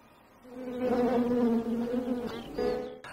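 Honey bees buzz in a steady, sustained drone that swells in loudness and holds close to the listener, drawn by the aroma and flavour of food, with no voices present.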